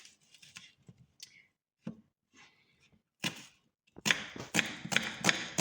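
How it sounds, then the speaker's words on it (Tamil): A knife finely chops onion on a board in sharp, close taps, sparse and irregular at first, then speeding into a quicker run of chops near the end. "இப்போ இந்த வெங்காயத்தை வந்து ஃபைனாக வந்து கட் பண்ணிக்கோங்க"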